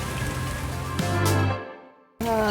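Steady rain falls around a converted bus parked at an unfinished parking pad, a constant wash of close patter with a louder surge midway, a brief hush, then the rain returns.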